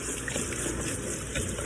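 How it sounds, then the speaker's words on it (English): Water running steadily over potatoes in a colander as they are rinsed, a continuous close gushing splash with no clear breaks, heard alone. "Dump them in your colander. All right. And we'll rinse them out."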